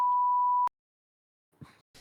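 A single steady censor beep tone covers spoken words. It holds loud for about two-thirds of a second, cuts off abruptly, and is followed by brief quiet talk.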